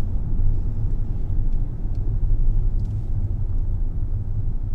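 A car engine idles steadily during a driving lesson, a continuous low rumble that stays close and even throughout with no talking.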